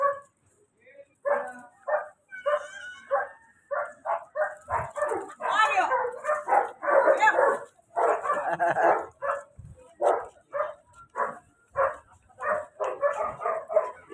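A friendly pet dog named Summer barks repeatedly outdoors on a walk in Tondo, Manila, sharp yips and barks coming in a steady run and growing busier midway, with no clear talk.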